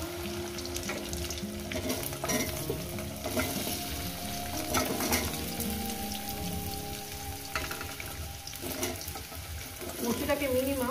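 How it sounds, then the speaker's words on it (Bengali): Taro and fish heads fry in a pan for a Bengali vegetable dish, a steady close sizzle with scraping stirs and clinks of a spatula throughout. "আগে কচুটা দেবো।"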